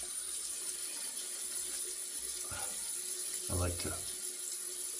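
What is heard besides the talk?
water tap rinsing the shaving brush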